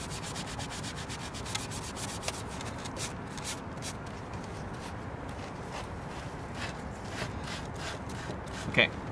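Abrasive Scotch-Brite pad scuffing a PVC inflatable boat surface as prep before patching, a steady close scratchy rubbing that runs continuously with faint voice sounds in the background.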